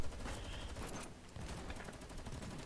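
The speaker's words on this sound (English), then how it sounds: "Oh, so much gunfire." Dense, continuous gunfire in the video game Girls' Frontline 2: Exilium, rapid bursts and volleys blending into a sustained barrage with no talking.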